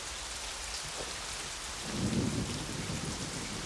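Steady rain pours down in a dense, even hiss, with a soft low rumble swelling briefly in the middle.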